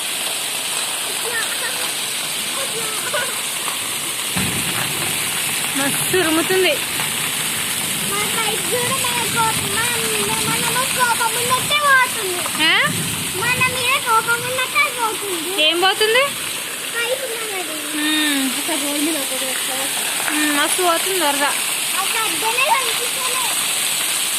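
Rushing floodwater roars steadily throughout, a constant broad wash of flowing water, with voices talking over it at several points.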